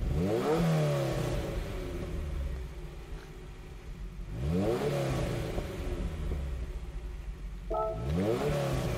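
A 1975 Ferrari 308 GTB V8 engine in Gran Turismo 7 fires up and revs hard three times, each rev a rising roar that drops back to a rumbling idle in between.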